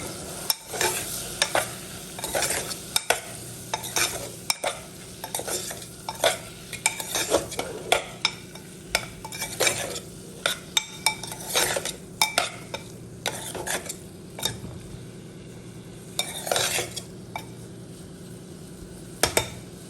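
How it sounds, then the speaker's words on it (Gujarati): A spoon stirs potatoes into tomato masala in a pan, giving repeated scraping clinks against metal over a soft sizzle, close and fairly quiet. "બટેટા છે આપણે આમાં ઉમેરી અને સરખી રીતે હલાવી અને મિક્સ કરી દઈએ."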